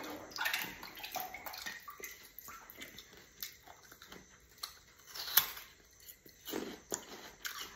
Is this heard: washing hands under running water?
yes